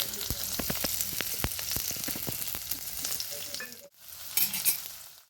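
Oil sizzles loudly and steadily up close as chopped onion fries, with crackling pops and stirring clatter, then a brief hush before the sizzle surges again.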